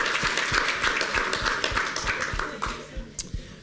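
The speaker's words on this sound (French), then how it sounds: "les membres du jury sont revenus dans la salle, on les applaudit très fort" An audience claps for jury members coming back into the room, a brisk run of hand claps and taps that thins out toward the end, with no talking over it.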